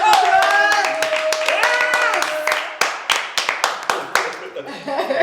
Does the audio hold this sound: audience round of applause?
yes